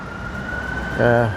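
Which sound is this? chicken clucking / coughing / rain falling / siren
siren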